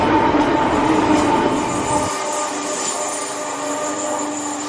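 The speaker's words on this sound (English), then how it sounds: "St Germans is on the main railway line through Cornwall, but not every train stops here." A train rumbles past on the main railway line at St Germans, Cornwall, with a rushing roar, then the low rumble drops away leaving a fainter metallic hum.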